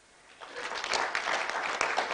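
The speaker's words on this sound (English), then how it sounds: "A clap for that." A graduation ceremony crowd breaks into applause that swells quickly from quiet into steady, continuous clapping and holds at a moderate level.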